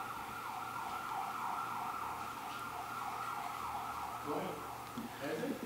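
An ambulance siren wails steadily in the distance while a voice speaks over it near the end.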